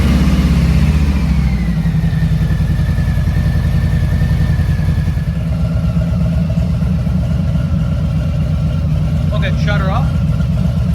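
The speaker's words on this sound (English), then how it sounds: "we got to start the bike and run it to a operating temperature." A 2022 Harley-Davidson Street Bob with the 114 engine starts up and idles loudly and steadily up close, with a deep, throbbing rumble that settles after a brief initial rev.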